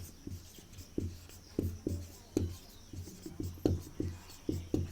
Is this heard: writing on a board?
yes